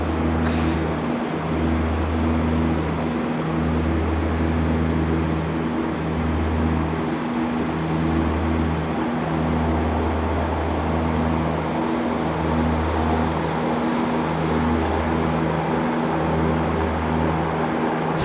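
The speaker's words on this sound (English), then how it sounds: "There's some engine runs being taken place over at the Qantas Jet Base" Jet engine ground runs at the Qantas Jet Base at Sydney Airport, heard as a steady, distant roar with a low humming drone that holds unbroken for the whole stretch.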